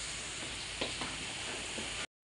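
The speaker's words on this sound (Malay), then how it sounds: "Kita goreng sekejap je." Curry puffs (karipap) sizzle while frying in hot oil, a steady, fairly quiet hiss with a few soft pops, heard alone for about two seconds.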